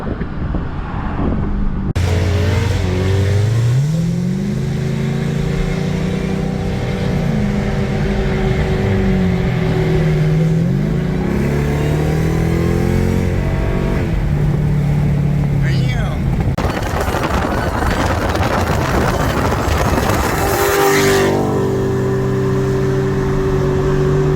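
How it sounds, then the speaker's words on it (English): Dodge Hellcat doing a burnout, a loud close engine roar that rises and falls with revving sweeps, tire squeal mixed in and a final surge, with talk partly over it. "That was a big ass burnout."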